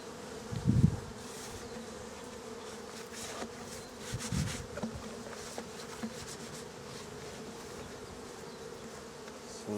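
Honeybees buzz steadily inside a hive with wax moth damage, a soft continuous drone with a few louder close passes near the start and middle, no voices.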